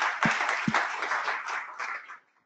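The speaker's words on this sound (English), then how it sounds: "Let's give them a round of applause." Short burst of audience applause, many hands clapping briefly before fading out quickly.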